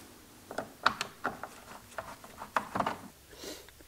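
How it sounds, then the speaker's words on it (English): Torque screws being driven into a third brake light housing on a 2018-or-newer Jeep Wrangler JL, giving a string of short ratcheting clicks and mechanical ticks in irregular bursts, close and fairly quiet with no talking. "We're going to start a few of the torque screws just to hold it in place."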